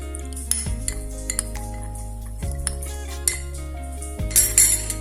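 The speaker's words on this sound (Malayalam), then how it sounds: "നല്ലപോലെ മിക്സ് ചെയ്യുക, കളക്കുക." A spoon clinks against a bowl as a milk and colour mixture is stirred for a bread dessert, with sharp metallic taps and ringing tones at irregular intervals, close and clear.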